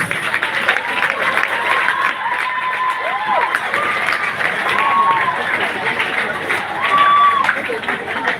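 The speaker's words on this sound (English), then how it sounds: "round of applause is not enough." Audience applause at a live event, a steady wash of clapping with some cheering throughout, fairly loud, with tonal whoops or voices rising above the crowd noise.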